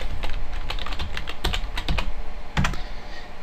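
Computer keyboard keys are tapped in short irregular bursts, a series of crisp clicks typing a password at close range with no voices.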